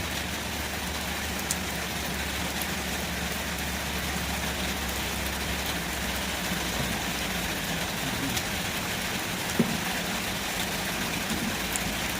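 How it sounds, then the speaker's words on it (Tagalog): Steady rain falls in Mindoro during a typhoon, a dense, even hiss with a low rumble underneath, continuous and moderately loud with no voices. "Maulan po ngayon dito."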